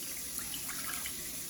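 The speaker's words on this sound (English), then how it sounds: "Adding my water." Water poured steadily for pizza dough, a continuous close trickle with no break over the short stretch.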